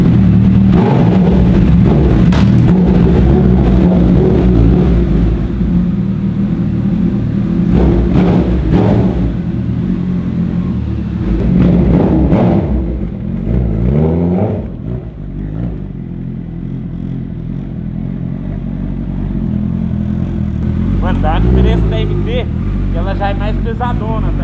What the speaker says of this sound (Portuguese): vamos acelerar esse negócio, vamos ver o jeito que é o poder da CB1000